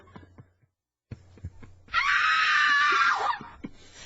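A person screams loudly and sustained for over a second as ice water is poured on them, a sudden shrill cry rising after a few quiet knocks and rustles, then cutting off.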